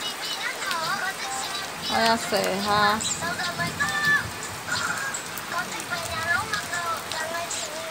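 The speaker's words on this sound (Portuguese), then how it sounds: "Chuva." Steady rain patters outdoors, making a broad hiss under people talking, including a voice, close to the microphone.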